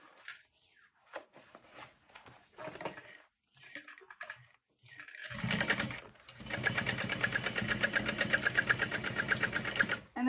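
Sewing machine stitching a bag lining, quiet handling clicks and rustles at first, then a steady fast mechanical chatter of the needle running continuously for several seconds, close and fairly loud.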